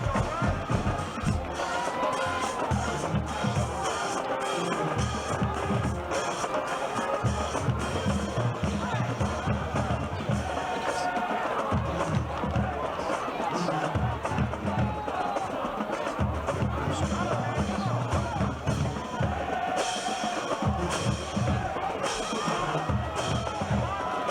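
Loud, steady roar of a college football crowd packed into the stands, a dense wash of voices and cheering that persists throughout with bursts of rhythmic noise, while commentators talk over it.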